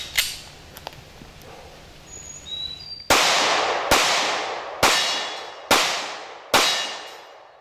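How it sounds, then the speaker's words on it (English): A Smith & Wesson M&P Shield .45 ACP pistol with Winchester ammunition is fired one-handed, five loud, sharp reports at a steady pace about a second apart, each ringing out with a long decaying echo. "Just gonna shoot a little bit one-handed because it's always good to see what the"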